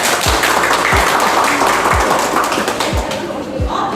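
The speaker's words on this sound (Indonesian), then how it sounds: "Tepuk tangan dulu buat kita semua" Applause from a small group on an Indonesian business talk show, a dense patter of clapping running steadily through the four seconds, with a few low thumps mixed in.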